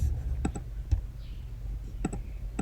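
Sparse, crisp clicks of keys being tapped on a computer keyboard, a few isolated presses and a quick pair, quiet against faint background hum.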